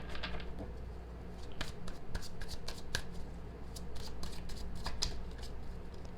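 A tarot card deck being shuffled by hand, close up: rapid papery riffles and soft card slaps in irregular bursts over a low room hum.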